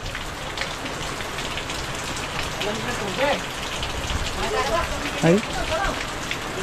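Heavy rain with strong wind pours steadily over a house, a dense, constant roar of drops throughout, with a brief voice exclaiming near the end.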